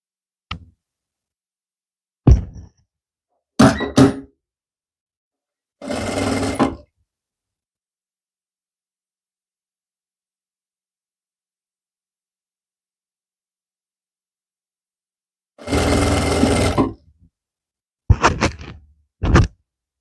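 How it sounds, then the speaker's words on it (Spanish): A sewing machine stitches around the neckline of a French-cut dress in short, close bursts separated by pauses, with one longer run of stitching near the end. "Y vamos cosiendo por todo el contorno del escote, únicamente escote,"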